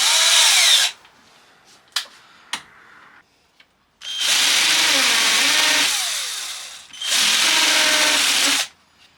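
A power drill fitted with a metal drill bit bores into timber in three loud whirring bursts, the middle one long and steady, separated by short clicks and quiet gaps.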